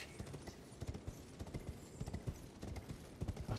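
A horse gallops in the Elden Ring video game, its hooves beating out a fast, regular run of sharp, close thuds that continues steadily throughout.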